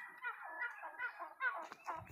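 Young turkey poults call with a series of chirping, trilling peeps and short gobbling notes, fairly close, with brief pauses between bursts.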